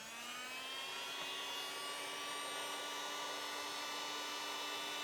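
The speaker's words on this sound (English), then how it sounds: "So what you need to do is get a heat gun." A handheld heat gun blows hot air with a steady, loud whirring whine and a constant broadband hiss, with no pauses and no talking.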